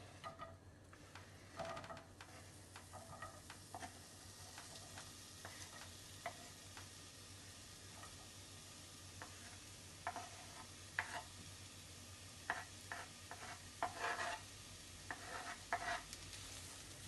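Onion frying in vegetable oil in a pan over a campfire for Hungarian-style lecho, with a low steady sizzle and scattered scraping stir strokes, fairly quiet and without talk.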